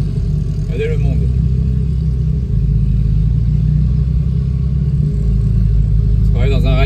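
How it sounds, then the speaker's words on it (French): Ferrari engines rumble steadily in Monaco street traffic, a loud, close, continuous low drone with a brief revving rise at the end. "On se croirait dans un rallye Ferrari."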